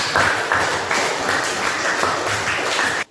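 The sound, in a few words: class applause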